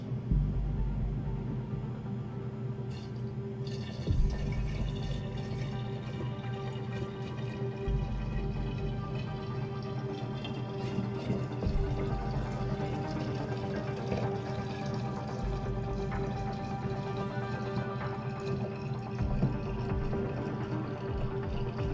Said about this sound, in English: we're just going to pour it in with the other ingredients.